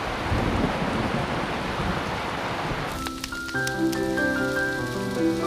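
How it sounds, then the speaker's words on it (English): Steady rain pours down through a thunderstorm in an animated children's show, a dense hiss for about three seconds before it gives way to music. "Bonnie just ran away at the first sound of the thunder, Sarah."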